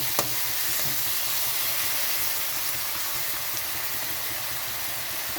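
Tomatoes and green chilies fry with onions in a pan, producing a constant close sizzle with occasional stirring clicks and no voices.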